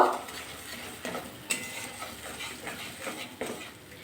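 A spoon works through potol curry with cashew paste in a pan, producing soft sizzling and irregular scraping strokes, with a couple of clinks of utensil on metal, close and moderately quiet.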